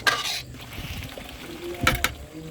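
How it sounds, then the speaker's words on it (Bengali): Fish pieces with spices being stirred in a pan bring clinks and scrapes of a spoon against metal, a sharp clatter at the start and another near the end, over a soft background of cooking sizzle. "এখন হচ্ছে সুন্দর করে কষিয়ে নিতে হবে"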